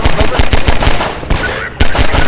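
Loud, rapid gunfire in Half-Life 2: Synergy, quick repeated shots in bursts with two short gaps.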